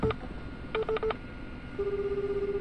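Telephone keypad tones beep while a call is placed, a short burst of clean dialing tones followed by a steady pulsing ringback tone, quiet and clear with no talking.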